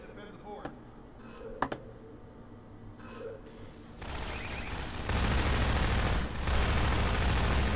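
Gunfire in Half-Life 2: Episode Two, sparse clicks and pops at first, then a dense sustained roar of rapid shooting building loudly toward the end.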